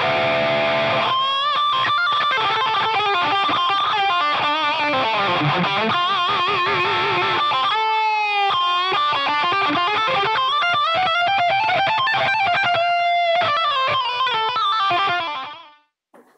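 Distorted electric guitar through a Boss ME-80 multi-effects wah parked in one spot, giving a nasal, honky lead tone over chords and riffs, continuous and loud before fading out.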